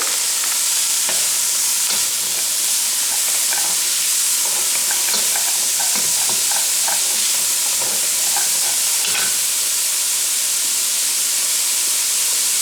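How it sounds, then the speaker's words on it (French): Loud, continuous sizzling and hissing of bacon lardons frying in a hot saucepan, with occasional stirring scrapes, close up. "Je vais faire revenir le lardon"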